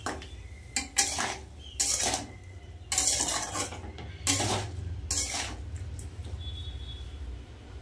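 Metal spoon scraping and knocking against a pan while spices are fried with cauliflower, potato and soybean curry, a series of irregular clanks and scrapes over a low steady background.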